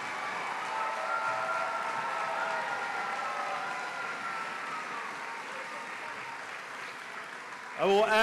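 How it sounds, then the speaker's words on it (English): An audience applauds at a school commencement ceremony, steady sustained clapping at a moderate distance that fades slightly before a brief louder sound at the end. "One last round of applause,"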